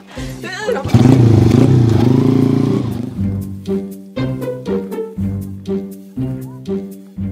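A motorcycle engine roars up close and loud, then settles into a rhythmic, pulsing idle with repeated chugging beats, no voices over it.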